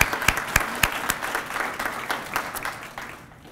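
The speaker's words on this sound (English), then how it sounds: "can we give her a round of applause" An audience at a Project Lead The Way kick-off event at a downtown high school breaks into applause, a burst of many hands clapping that starts loud and gradually thins out.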